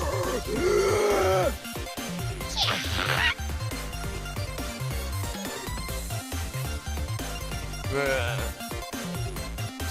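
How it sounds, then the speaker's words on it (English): Death sound for the character Tsurugi in the Blue Archive video game, a loud, busy burst of vocal cries and crashing game effects layered over dense background music and noise. "That's the sound of Tsurugi's dying."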